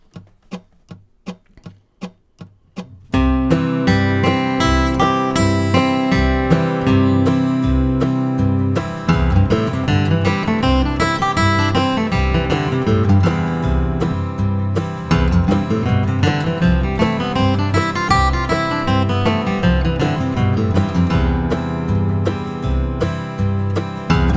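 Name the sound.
guitar arpeggio and scale patterns over strum machine backing track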